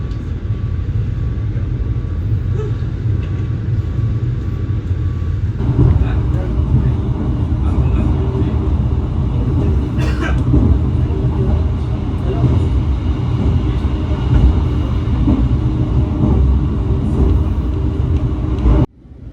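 Gaya Baru Malam Selatan passenger train travelling near Jombang and Kertosono, a steady loud rumble of wheels and running gear heard continuously throughout, with a brief sharper clank midway.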